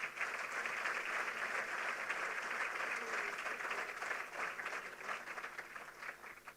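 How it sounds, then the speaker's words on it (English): An audience at an official ceremony gives a round of applause for national athletes, dense and sustained clapping that holds steady and then thins slightly toward the end, with faint voices underneath. "I'd like to invite you to give a round of applause to all our athletes representing us in Paris"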